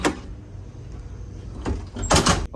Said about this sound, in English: use your key on the door